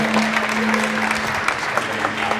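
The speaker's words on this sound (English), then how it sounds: "Please, a big round of applause for Steve from Devon Coffee in Exeter." A competition audience applauds a barista competitor, a dense and fairly loud burst of clapping that holds steady throughout with a constant background hum and no clear voices.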